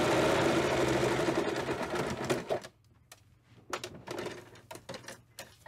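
A sewing machine stitches fabric around a curve, a dense rapid whirring run that stops, then short bursts of two or three stitches with pauses between as the fabric is turned, close by.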